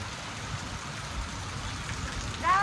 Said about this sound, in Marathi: 2 महिन्यात आज पाऊस आलाय.